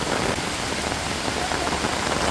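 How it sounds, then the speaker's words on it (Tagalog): Heavy rain from Typhoon Aghon pours down in a dense, unbroken hiss of drops pattering loudly on surfaces nearby, brief and without voices. "Lakas na po ng ulan."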